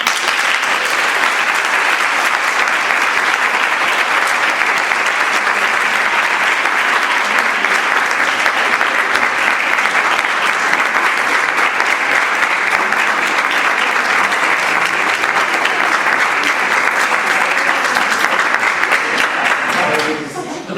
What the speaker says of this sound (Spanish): te voy a dar un aplauso con todo el público antes de que termine tu minuto